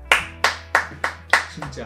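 Five or six crisp, evenly spaced hand claps at close range during a wine-tasting class, with a low hum underneath and a brief word spoken at the end.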